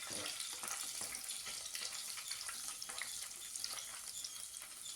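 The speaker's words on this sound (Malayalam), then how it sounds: "ഇനി അതിൻ്റെ ഈ പച്ചമണം പോകുന്നവരെ നല്ലപോലെ ഒന്ന് വഴറ്റി കൊടുക്കുക." Garlic is sautéed and stirred in a hot pan for brinjal curry, giving a quiet, steady sizzling crackle with faint scraping strokes of stirring, close and continuous with no talking.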